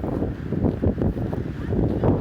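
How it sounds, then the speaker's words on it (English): Gusty wind buffets the microphone in low, rumbling pulses, steady and close throughout. "Very windy."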